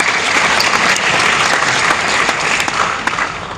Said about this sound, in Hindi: हमारे बीच में सुनीता मैम आई हैं, तालियों से इस्तकबाल करें।